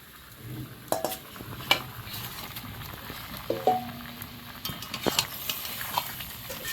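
Fish frying in hot oil in a pan, a soft continuous sizzle broken by several clinks and scrapes of a utensil against the pan, close by and without speech.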